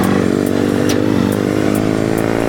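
Liquid-cooled single-cylinder engine of a 2025 KTM 390 Enduro R trail bike idling steadily and close by, a continuous throbbing drone with even pulsing and no change in revs.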